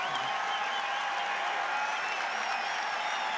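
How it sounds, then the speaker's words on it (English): Basketball crowd in an arena cheering and applauding at a college game, a dense steady roar of clapping and voices lasting throughout without a break. "It brings the crowd to life"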